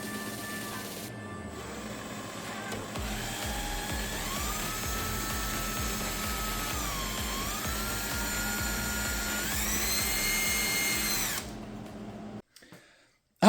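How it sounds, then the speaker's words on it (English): A power drill bores a hole for an Accusump accumulator mount in an F-body car, whining loud and close for several seconds with the pitch sagging and rising under load, then stopping abruptly. "I'm gonna see if I can get this kind of drilled here."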